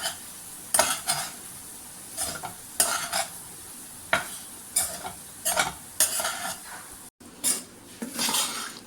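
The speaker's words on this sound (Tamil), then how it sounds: "எல்லா பக்கமும் இந்த மசால் வந்து மிக்ஸ் ஆகிற அளவுக்கு, வெள்ளை சாதமே தெரியக்கூடாது, அந்தளவுக்கு மிக்ஸ் பண்ணி விட்டுக்கலாம்" Cooked rice being mixed with masala for raw banana rice, with repeated scraping, clattering strokes of a spoon against the pot, close and fairly loud, over a faint sizzle.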